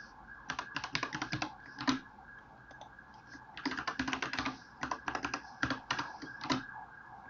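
Root password being typed on a computer keyboard during a VMware vCenter Server 8.0.2 install: two quick bursts of crisp key clicks separated by a short pause, close and clear with no talk.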